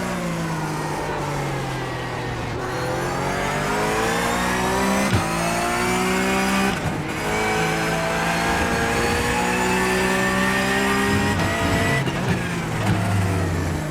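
A Porsche 911 GT3 Cup race car in the iRacing sim laps Interlagos, its engine note loud and close, climbing through the gears with sharp shifts, easing off for corners and surging again.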